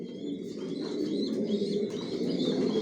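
Racer pigeons, red checker breeding pairs in a loft, coo in a steady, overlapping chorus of low throaty calls that fill the whole stretch, with faint chirps above and no speech.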